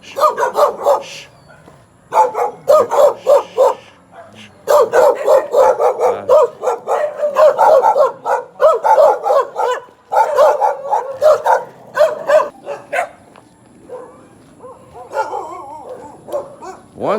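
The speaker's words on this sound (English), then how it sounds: "They are looking at us and barking." Several dogs bark at passers-by on a walk in the Philippines, loud and close, in repeated overlapping bursts of barks and yips with short pauses between volleys.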